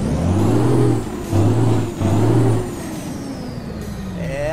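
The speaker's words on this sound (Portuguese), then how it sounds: "aquele ronco raiz que a gente conhece do Volvo aí" A Volvo FH12 truck engine in Euro Truck Simulator 2 roars in three loud revving pulses with a deep low drone, then settles into a steadier idle as a hiss rises near the end.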